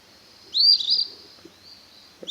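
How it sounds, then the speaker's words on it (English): An eastern phoebe gives a single raspy, buzzy call phrase, clear and fairly close, followed by quiet background. "Eastern phoebe. So it's this kind of four-part call."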